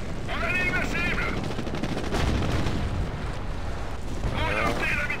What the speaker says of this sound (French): Orientez la mitrailleuse coaxiale.